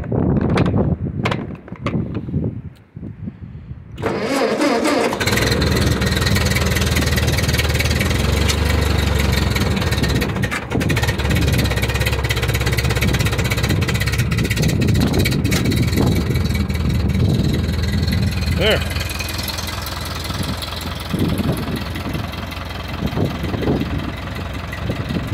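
Starter cranking on a Ford 8N tractor, a few short bursts before the engine catches, then the tractor idles loudly and steadily close by with an uneven, knocking rhythm.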